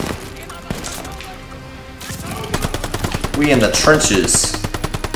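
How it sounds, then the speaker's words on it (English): Rapid bursts of gunfire from blind firing in the Call of Duty Vanguard video game, loud and sustained in the second half after a quieter opening, with a voice talking over it. "I'm blind firing, boys."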